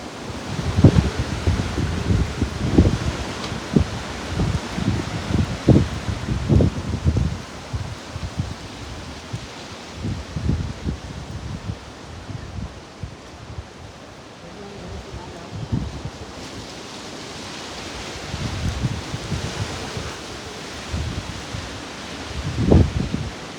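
Strong gusting wind tears through rustling leaves in a rain-and-wind storm, a continuous broadband roar with repeated surging gusts, loud and close, with a few voices briefly audible underneath.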